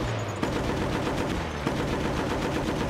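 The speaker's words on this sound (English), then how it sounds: "You're literally just shooting the rail." Dense, continuous automatic gunfire from the Battlefield Bad Company video game near a bridge, loud and unbroken with a couple of sharper impacts, no talking.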